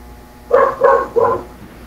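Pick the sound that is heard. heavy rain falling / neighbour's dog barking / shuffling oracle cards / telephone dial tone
neighbour's dog barking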